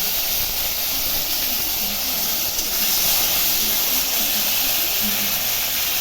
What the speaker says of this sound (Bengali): এখন একটু ভেজে নিব বেগুনটা। তেল দিয়ে দিচ্ছি।